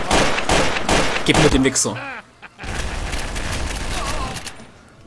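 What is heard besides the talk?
pistol gunfire in video game Trouble in Terrorist Town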